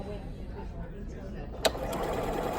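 Janome Continental M7 sewing machine stitching fabric in straight stitch, a steady broadband mechanical whir running throughout with one brief sharp click partway, then picking up at higher speed, with speech mixed in.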